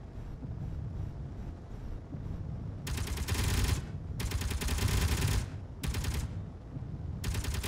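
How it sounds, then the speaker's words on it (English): Heavy automatic guns in a video game fire in long, loud bursts at attacking robots, the rattling volleys starting after a quieter rumbling stretch and recurring in several separate blasts. "Yeah, that's what my guns are shooting at."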